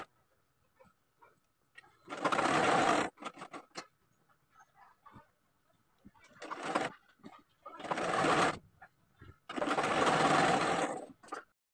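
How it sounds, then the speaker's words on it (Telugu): An electric sewing machine stitches thread piping onto the neckline of a cut dress in short bursts of fast, whirring stitching, separated by quiet pauses with small handling clicks. "సో ఫస్ట్ నేను నెక్కి ఈ పైపింగ్ని యాడ్ చేస్తున్నానండి."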